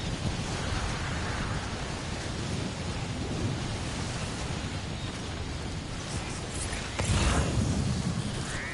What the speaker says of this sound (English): The storm's about to clear.